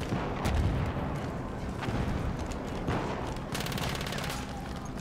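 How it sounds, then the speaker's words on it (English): Battlefield 1 combat on Xbox One X, with steady distant rifle and machine-gun fire rattling continuously, punctuated by sharper nearby shots and artillery-like thumps. "Who's shooting at me?"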